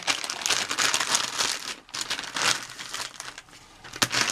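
A baby wipe is tugged from its soft plastic packet at a crafting table, giving close, continuous crinkling and rustling with several louder bursts and a brief quiet gap midway.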